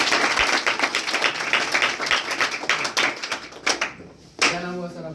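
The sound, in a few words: audience applause for a new student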